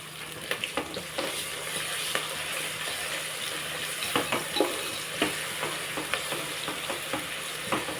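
Ginger garlic paste frying in a pan for mutton curry, a continuous close sizzle punctuated by repeated sharp scraping stirs of a utensil against the pan, irregular and fairly loud; no voices.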